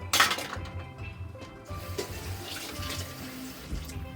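A cup of water is poured into a pot for cooking rice with fresh gungo peas, giving a close splashing rush with clinks of metal and dishes, steady and moderately loud, with no talking.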